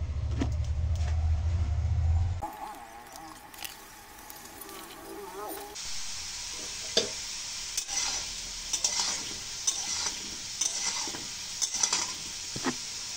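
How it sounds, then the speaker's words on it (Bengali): Potatoes frying in hot oil in a wok for a potato and chicken curry, a steady loud sizzle building after a few seconds, with occasional spatula clinks and scrapes. "তেলটি গরম হয়ে গেলে আলুগুলো সুন্দর করে ভেজে নেব।"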